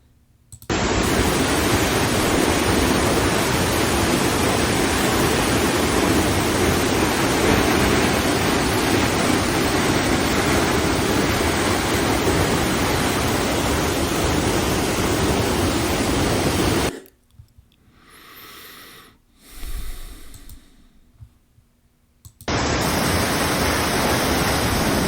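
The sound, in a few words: waterfall at Dry Falls, North Carolina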